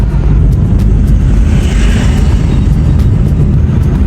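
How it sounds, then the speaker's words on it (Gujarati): A fixed-wing airplane departs an airport beside a highway near the Gujarat border, a loud, steady low engine roar that fills the whole stretch with no break and no voices. "એરપોર્ટમાંથી વિમાન નીકળી ગયું છે."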